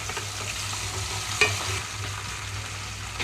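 Chopped tomato added to green chillies frying in a pan for thotakura pachadi, with a steady close sizzle, a sharp clink near the start and continuous soft frying.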